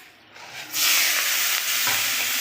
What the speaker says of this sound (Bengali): ঢেলে দিয়ে একটু হালকা করে ভেজে নেব